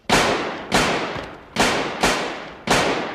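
Five sharp gunshots ring out at a steady spacing of roughly two-thirds of a second, each a loud broadband crack with a decaying tail, played in a film being watched with no talk over them.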